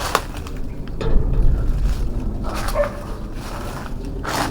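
A dog barks at an abandoned sugar factory behind a large padlocked gate, with a few sharp barks rising over a rumbling outdoor background.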